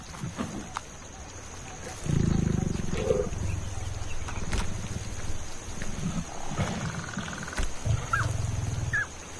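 Lions roaring in the Masai Mara, deep rumbling roars starting a couple of seconds in and recurring through the clip, fairly loud and close, with a thin steady whine and scattered clicks in the background.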